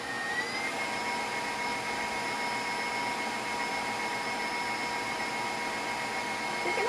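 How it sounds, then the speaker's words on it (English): An electric mixer whips egg yolks for a key lime pie, giving a steady, continuous high whirring drone at an even level with no talking. "now that we have our egg yolks whipping a little bit"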